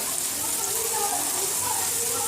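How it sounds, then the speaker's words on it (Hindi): Water poured into bhindi masala simmering in a pan, a steady broadband splashing wash held at even loudness for the whole stretch, close and fairly loud with no voices over it. "इसके बाद पानी डालेंगे इसमें थोड़ा सा"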